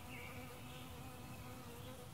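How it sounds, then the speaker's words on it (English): Brood X periodical cicadas at Patuxent Research Refuge in Laurel, Maryland, fill the air with a dense, continuous, steady buzzing drone from a large outdoor chorus. "You'll also hear additional collaborators, Brood 10 Cicadas."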